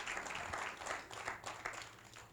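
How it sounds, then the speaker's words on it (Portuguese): A church congregation claps during a service, a faint, steady patter of hands rising and falling in waves across the room. "aplaude Jesus, que nessa manhã está nos alertando."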